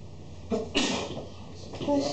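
A short sneeze bursts out in a lecture hall, moderately close and set against the quiet room's background hum, followed by a softer second sound.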